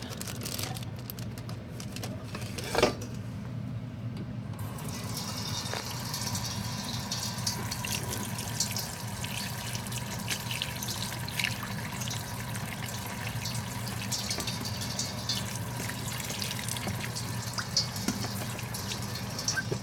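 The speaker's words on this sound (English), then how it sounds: "Now I'm going to go ahead and open them and dump it into the colander to drain and rinse off." Running water pours steadily into a sink as boiled eggs drain in a colander and are rinsed, a constant tap-like wash lasting throughout with a brief clatter near the start.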